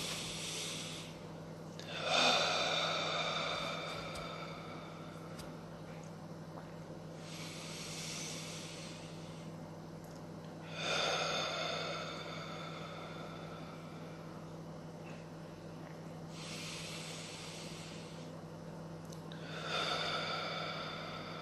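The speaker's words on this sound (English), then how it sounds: "I'm going to take some 3 deep, beautiful breaths" Three slow, deep breaths during a guided meditation, each a long whooshing inhale and exhale spaced several seconds apart, close and soft over a low steady hum.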